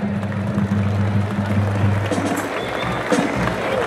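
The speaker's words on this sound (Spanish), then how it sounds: "la ovación no se hace esperar" A crowd at Rancho La Misión in Tamazula, Jalisco, gives an ovation to welcome the ranch owner, with sustained applause and cheering under a loud voice over a PA, along with a low musical hum early on.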